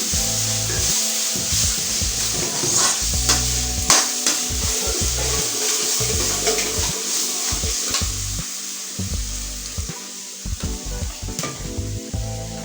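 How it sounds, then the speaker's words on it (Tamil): Chopped tomatoes sauté in a pan with ginger-garlic paste, sizzling steadily up close while a spoon repeatedly scrapes and stirs, without any talk. "பாருங்க, இந்த அளவுக்கு தக்காளி நல்லா வதங்கட்டும்."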